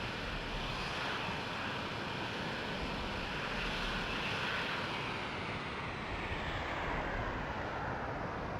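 An F-16 Block 40 lands in the Falcon 4 Allied Force flight simulator. A dense, steady jet-engine roar with rushing air noise continues unbroken at constant loudness, with no voices.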